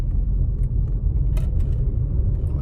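A 2011 VW Golf, just fitted with a new CV joint, circles slowly around a parking lot, its steady low engine and road rumble close and continuous with no voices.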